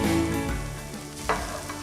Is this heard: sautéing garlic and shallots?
yes